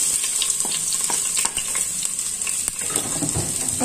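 Garlic and onion sauté in a hot pan with oil, giving a steady close sizzle and frying crackle broken by light scrapes of a utensil stirring, with no talk.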